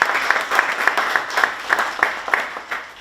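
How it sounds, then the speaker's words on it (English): Audience applause after a stand-up comedy set at a bottle shop benefit show, a steady dense patter of many hands clapping close by, with a few brighter claps popping out over the wash. "Give the crew bottles a round of applause, too."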